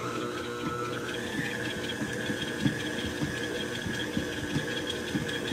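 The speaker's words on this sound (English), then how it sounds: "So now we're gonna turn on our mixer." An electric mixer whirs steadily while whipping cupcake batter of milk, extract and salt, its motor tone rising slightly as it picks up speed, with faint knocking from the beaters against the bowl.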